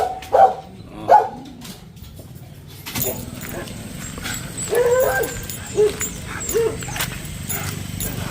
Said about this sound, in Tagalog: Labas ko muna itong aso.